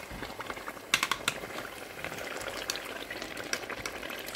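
A rich Nigerian Sunday stew frying in a pot, with steady close bubbling and popping plus a few sharp spits and crackles, moderate in level with no talking.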